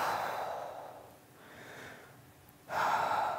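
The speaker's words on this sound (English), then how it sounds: "And breathing." Slow, audible breaths during a stretchy yoga session, a long exhale fading out and then a sharper, louder breath near the end, close and quiet, with no talking.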